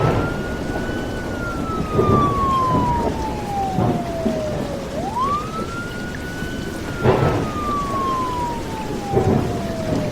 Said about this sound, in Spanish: Mientras el sonido de las sirenas se oían a lo lejos